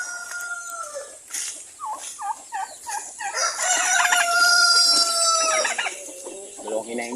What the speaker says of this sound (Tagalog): Parami na uli ang ating mga alagang manok